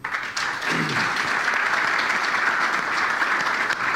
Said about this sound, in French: C'est rare qu'un journaliste fasse applaudir un politique